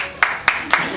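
A single person claps four times at a slow, even pace, sharp and close, over a faint background murmur.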